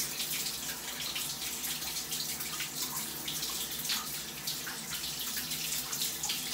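A home shower runs in a steady, fairly quiet hiss of spraying water with small splashy fluctuations throughout and no talking.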